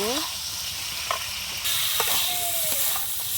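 Potatoes coated with turmeric and chilli powder sizzle loudly and continuously in a hot pan, with occasional scraping strokes as they are stirred.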